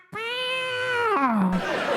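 A single long, loud cat meow sounding close to the listener, held steady and then sliding down in pitch as it fades into a brief rough tail.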